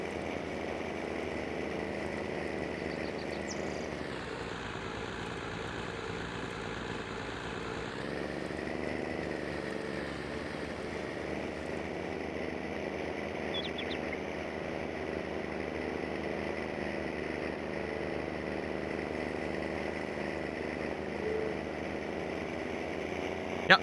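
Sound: tractor engine running, from video game Farming Simulator 19

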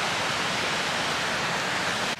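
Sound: waterfall

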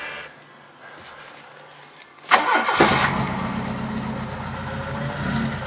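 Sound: lawnmower engine on nitro fuel starting

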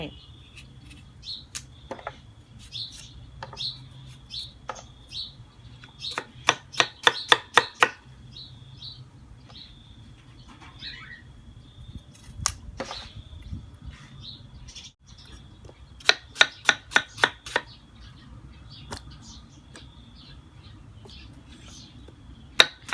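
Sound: chopping wax gourd with a knife

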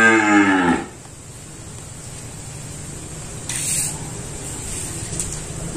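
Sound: Sindhi cow mooing on a farm

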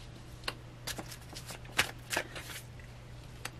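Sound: tarot cards being shuffled and drawn

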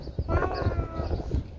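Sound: horse walking, hooves clip-clopping

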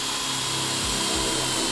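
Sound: drilling a hole in wood with a Projahn drill bit

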